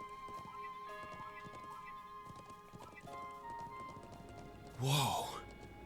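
Horse hooves clip-clopping in the video game Trails of Cold Steel IV, a steady patter of hoofbeats over background game music, ending in a loud, close neigh.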